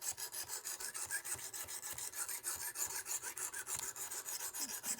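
A VG10 steel knife is sharpened, with rhythmic rasping strokes on a stone. Each stroke is quick and close, repeating steadily at about several per second in a quiet setting.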